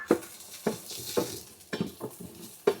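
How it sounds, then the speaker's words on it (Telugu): A spoonful of poppy seeds sizzles in a hot pan after the stove is turned off, with about half a dozen distinct scraping stirs over a soft hiss, close and fairly loud. "1 స్పూన్ గసగసాలు వేసి స్టవ్ ఆఫ్ చేస్తున్నాను. ఈ హీట్కే గసగసాలు ఫ్రై అయిపోతాయి."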